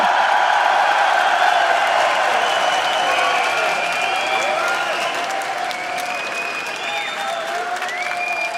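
Large live esports crowd at a League of Legends LCS EU match in an arena, applauding and cheering loudly and steadily throughout, with scattered whoops rising over the sustained clapping.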